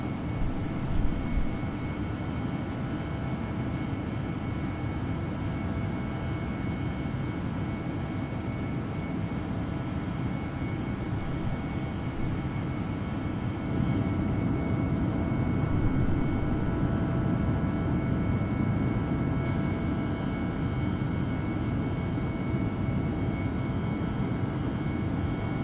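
An Iberia Airbus A318 cruises toward the Pyrenees. Steady engine and airflow noise fills the cabin as a constant broadband roar with a faint tonal whine, and it swells slightly partway through.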